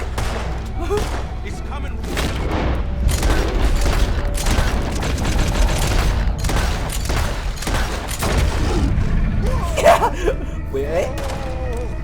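Gunfire crackles in Red Dead Redemption 2 while an alligator attacks a boat: rapid volleys of shots and booms roll under excited, overlapping talk.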